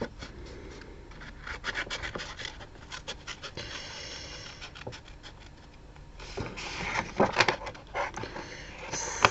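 Close scraping and rasping as a nib shape is cut out of stamped zinc ink artwork, irregular strokes that grow louder and busier toward the end, with no voices.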